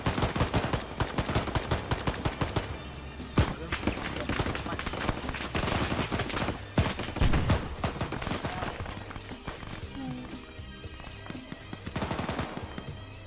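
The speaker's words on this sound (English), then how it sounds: "They're shooting guys to our right, so watch out on the peak of this hill." Dense bursts of automatic and single gunfire in a modern military shooter game, set on a hillside in a Soviet–Mujahideen scenario, rattling almost continuously and loud throughout with faint voices underneath.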